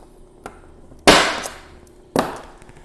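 Two sharp metallic taps of a punch making a divot ring out about a second apart, each followed by a brief ringing decay, preceded by a lighter tick.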